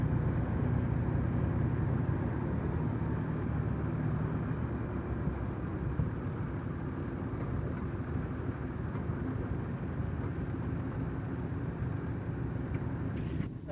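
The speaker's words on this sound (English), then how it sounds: "The old thresher running now." An old threshing machine runs at a 1985 farm threshing demonstration with a tractor nearby, making a steady, loud mechanical drone and rumble with busy rattling that holds constant throughout.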